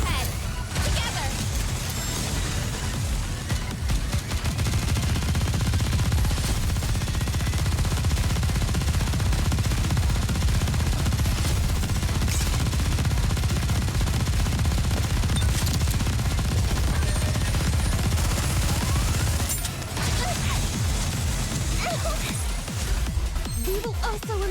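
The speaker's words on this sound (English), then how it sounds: "We need to fire straight ahead." Sustained machine gun fire in the NIKKE game, a loud, dense rattle of rapid shots running almost continuously under music and voices, with a brief dip near the end.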